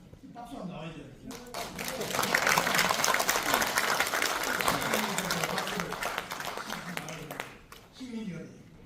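A seminar audience at an awards ceremony breaks into applause, a dense wash of clapping that swells and holds for several seconds before fading, with a speaker's voice heard before and after.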